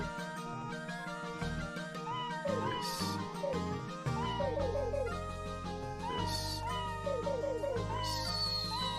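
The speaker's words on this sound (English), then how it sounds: "I have the sound of a cat." Cat meowing in the 1996 Konami video game Suikoden, repeated cries layered over ongoing game music, loud and close throughout with no talking.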